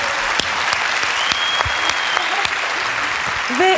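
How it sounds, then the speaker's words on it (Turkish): A studio audience at a 2007 concert session in Nilüfer gives steady, full applause from start to finish, with sharper individual claps standing out and a brief voice near the end. "Kocaman bir alkışla ne olur."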